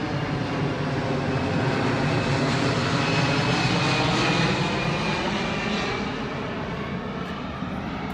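A steady, loud roar of a propeller airplane passing overhead, droning continuously for the whole stretch with no voices.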